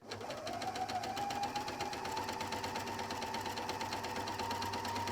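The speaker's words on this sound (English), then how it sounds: "Then I'm going to continue stitching" A Bernina L 460 serger runs steadily while stitching an overlock seam, a continuous close whirring hum with a rising motor tone that holds for several seconds without pause.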